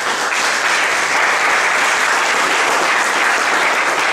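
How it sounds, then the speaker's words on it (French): An audience applauds warmly for a member of the Haitian football team at a launch event in Paris, a loud, dense, continuous wave of clapping filling the room without pause. "je vous demande d'applaudir chaudement Monsieur Jean-Baptiste Pétuel"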